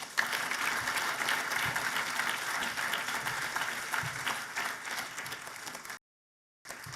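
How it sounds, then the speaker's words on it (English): An audience at a charity gala breaks into sustained applause, dense clapping from a large crowd that holds steady for several seconds, drops out abruptly, then resumes. "I think that deserves an applause"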